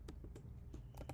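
Quick, irregular keystrokes on a computer keyboard as code is typed, several close taps in a short burst over a low background hum, with no talking.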